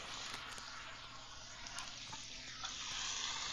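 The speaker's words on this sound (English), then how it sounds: "I made sizzling rice." Rice sizzling in a hot pan while frying, a steady bright crackling hiss with small pops throughout, close and alone, fairly quiet.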